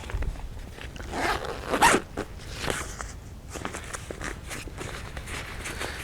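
Zippers run on the pack pocket of an Osprey Atmos 65 AG, making several quick rasping pulls close by, with soft handling and rustling between them.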